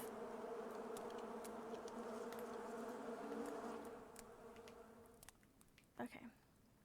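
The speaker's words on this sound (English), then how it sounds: "Oh, the bees are so loud." Bees in an island beekeeping video game drone in a dense, steady buzz that softens after a few seconds, followed by a couple of short faint knocks.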